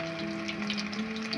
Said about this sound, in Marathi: आता मी एक एक पीस तळायला टाकते